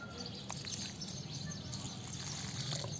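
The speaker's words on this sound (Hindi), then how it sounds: "तो इस तरह से मैं पानी देती हूँ।" Water pours and trickles steadily into potted plants, faint and continuous, with birds chirping in the background.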